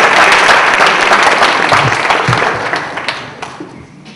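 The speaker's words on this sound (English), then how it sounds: "a big round of applause to the teachers" An audience at a bursary awards ceremony applauds teachers, dense loud clapping from a crowd that gradually fades over a few seconds, with no talk.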